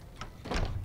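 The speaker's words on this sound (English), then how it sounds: "Door." A door opening in the video game Fallout New Vegas, heard as a short mechanical clunk followed by a louder sliding, whooshing sweep lasting about half a second, close and clear with no talk.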